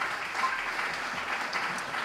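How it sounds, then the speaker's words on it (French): An audience at a talk on generative AI applauding two speakers, dense steady clapping from a crowd filling the whole moment. "Bravo, on peut applaudir les deux Thomas"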